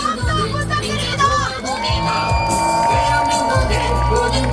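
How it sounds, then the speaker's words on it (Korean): Large outdoor crowd at a Lee Jae-myung campaign rally in Sejong roaring with cheers, whoops and shouts, a dense continuous wall of sound with a few higher shrieks rising above it. "여러분, 큰 박수와 함성 부탁드립니다."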